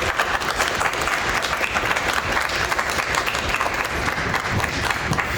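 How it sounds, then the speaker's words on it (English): A room full of people claps together in steady, continuous applause for a school Board of Education at a district meeting, dense and even throughout with no voices rising above it. "So if everyone would join me in a round of applause for our Board of Education."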